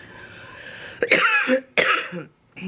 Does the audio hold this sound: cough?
yes